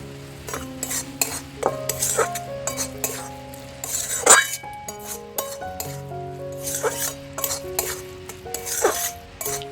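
Garam masala frying in hot oil, with a steady sizzle under repeated sharp clinks and scrapes of a utensil stirring in the pan, close and fairly busy.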